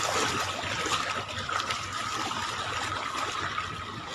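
Steady rushing, splashing floodwater fills the scene in Marilao, Bulacan, a continuous churning wash like waves moving through flooded ground.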